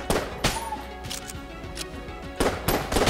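Sniper enemies firing in the dungeon shooter Enter the Gungeon, heard as sharp, punchy shots in small clusters separated by quieter gaps, with busy game sound effects in between.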